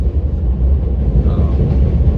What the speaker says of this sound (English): The train's passing above me